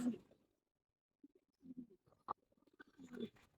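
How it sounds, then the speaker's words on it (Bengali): A feather-footed pigeon coos softly in short, scattered bursts, fairly faint and close, with quiet gaps between the calls during heavy rain. "ওই যে যে একটা মোজা পায়ের কবুতর ছিল"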